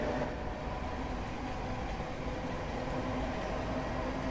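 A Class 456 and Class 455 electric train pairing running in Train Sim 2020 on the London Waterloo to Hampton Court route, a faint, steady rumbling roll with a low hum and no voices.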